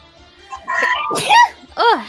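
A sharp sneeze bursts out close by, surrounded by brief vocal sounds and a short voiced exclamation afterward.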